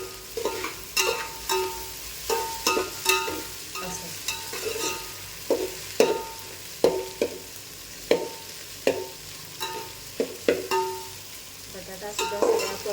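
Sliced onion and tomato sautéed in oil in a pan, with a steady run of sharp spatula strokes scraping the pan roughly every half second over a continuous low sizzle, close up with no talking.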